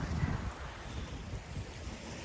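Strong wind buffeting the microphone in a continuous low roar, with a gust at the start and possible waves underneath, out on open water with patches of ice during windy stand-up paddleboarding.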